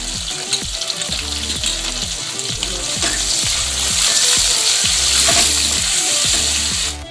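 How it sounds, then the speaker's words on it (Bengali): Potatoes frying in oil with turmeric and salt in a pan, a loud, close, steady sizzle with regular rhythmic stirring strokes, no voices. "আর একটু লবণ দিয়ে আলুটা ভেজে নেবো"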